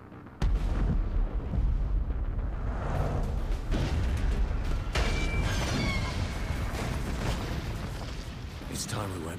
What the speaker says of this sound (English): I need to see this explosion.